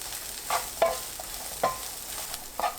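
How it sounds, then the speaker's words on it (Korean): Anchovies stir-fry in a pan with kkari chili peppers and a pinch of flower salt, a low sizzle punctuated by several sharp spatula scrapes at irregular intervals. "꽃소금 한 꼬집 넣고 가볍게 섞어가면서 1분 30초 볶아요"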